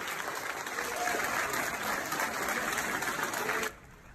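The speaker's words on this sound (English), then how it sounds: "Spontaneous applause erupted when people in Sydney's airport realized a plane full of American firefighters had just landed" Spontaneous applause at Sydney airport as a plane of American firefighters arrives, a broad crowd clapping over terminal ambience that suddenly cuts off near the end.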